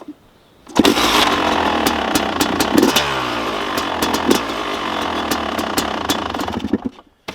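A Yamaha YZ 250 motorcycle engine, newly rebuilt, fires up and runs loudly. It settles into a raspy, crackling idle with a few blips of revs and stays up close until it cuts off at the end.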